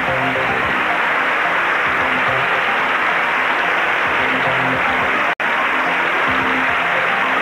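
A Miss Universe pageant crowd roars with dense, loud, continuous applause and cheering that barely dips, broken only by one sudden split-second dropout.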